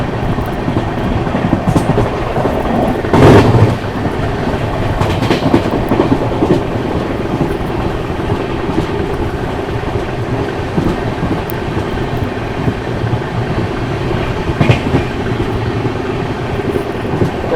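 A Panvel–Gorakhpur express passenger train runs along the tracks, heard from inside a coach: a loud, steady rumble with rhythmic clickety-clack and occasional louder jolts and rattles, with no talking.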